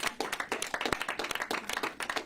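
One person claps hands in a quick, steady run of sharp close claps, standing out alone at a gathering of an anti-gun-violence group.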